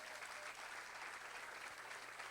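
A church congregation applauds during a sermon, an even spread of clapping heard faint and distant with a low hum beneath and no speech.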